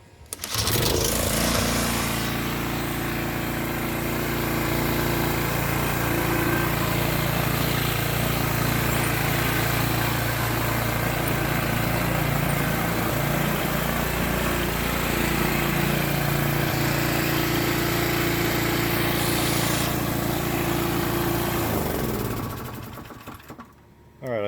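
Toro TimeMaster 30in lawn mower engine running steadily outdoors, a loud continuous hum and buzz with a slight rise and fall, voices faintly present beneath it, cutting off near the end.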